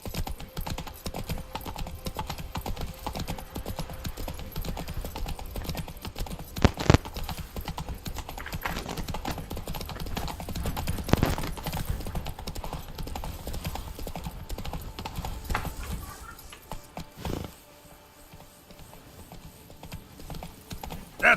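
Hooves of Roach, the horse in The Witcher 3, clip-clop in a steady walking rhythm close by, fading toward the end, with brief voices now and then.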